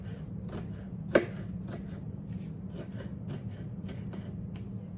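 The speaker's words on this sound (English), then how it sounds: "I'm gonna go ahead and cut up for just for my potato salad" A knife chops fresh onions on a cutting board for potato salad, a rapid, even series of close knocks with one sharper hit early on.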